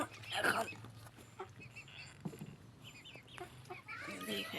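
A hen in a cage, about to lay eggs, gives soft intermittent clucks close by, mixed with faint rustling and low background noise.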